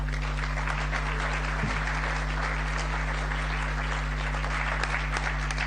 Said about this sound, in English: I'd like to another round of applause to congratulate the candidates.